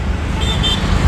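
Busy road traffic in Chandigarh on a rainy night, with a steady low rumble of cars and brief, faint car horn toots sounding through the middle.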